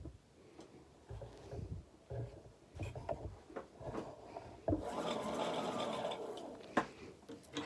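Sewing machine motor winding a bobbin under foot-pedal control, a soft mechanical whir that starts after a few quiet clicks and shuffles, then runs steadily for a few seconds at close range.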